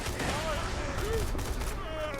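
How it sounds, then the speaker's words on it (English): Gunfire rattles in an Xbox video game, a rapid cluster of shots over dense background noise, loud and close throughout the short burst. "I accidentally just shot his face off"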